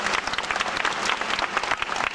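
A crowd at a dolphin show at Marineland in 1997 applauds steadily, a dense patter of many hands clapping at a fairly even loudness throughout.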